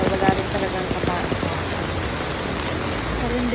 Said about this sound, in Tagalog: Malakas nilang ulan dito kaya wala rin talagang katao.